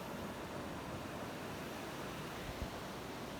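Continuous wash of surf breaking on Chao Lao white-sand beach in Chanthaburi, Thailand, a steady broadband roar with faint wind, no voices.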